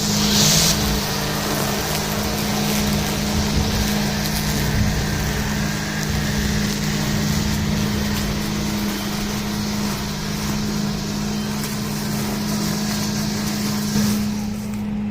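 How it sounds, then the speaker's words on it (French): A petrol brush cutter with an electric starter runs throughout with a steady, loud, droning engine hum and a constant low buzzing tone, held at an even throttle with no speech. "J'appuie sur le starter qui est électrique et je mets du gaz."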